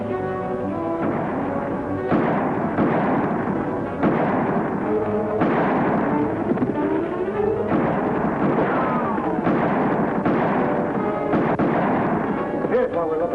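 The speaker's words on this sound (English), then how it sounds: "Hey, Sheriff, keep firing." Gunfire rings out in a western shootout, with repeated loud shots and ricochet-like whines spread through a long stretch, mixed with shouting voices and background music.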